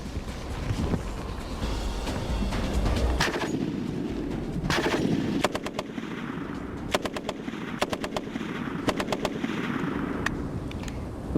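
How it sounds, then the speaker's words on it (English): A Mag-58 machine gun fires in rapid bursts, sharp cracks rattling in quick clusters with short pauses between, loud and close against a low rumbling background. "Its rate of fire makes the Mag-58 absolutely essential in repelling mass attacks."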